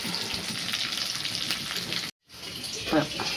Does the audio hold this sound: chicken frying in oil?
yes